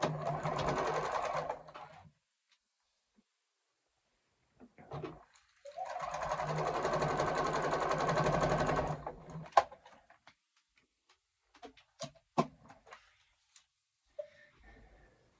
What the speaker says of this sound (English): I'm going to take it to the machine, and I'm stitching exactly on that fold.